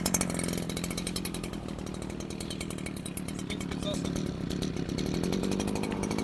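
The small two-stroke engine of a Husqvarna 321S15 petrol sprayer runs steadily at a loud, constant buzz from start to finish, with a voice briefly heard over it.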